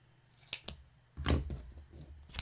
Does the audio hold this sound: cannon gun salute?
no